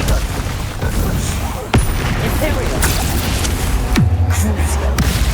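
Booming spell blasts and impacts from combat in the Hogwarts Legacy game on PS5, with a sharp bang near 1.7 seconds and a deep rumbling hit near 4 seconds over a dense, continuous wash of battle noise.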